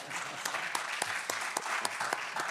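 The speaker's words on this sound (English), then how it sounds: "Maybe we should pause and give Ali a round of applause for..." Steady, fairly faint audience applause at a bariatric surgery conference talk, a dense patter of many hands with a few sharper individual claps standing out.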